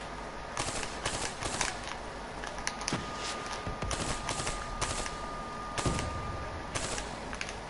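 Rapid gunfire from a Black Ops 3 firefight crackles in quick bursts and single sharp shots, steady and moderately loud against a busy background of combat noise.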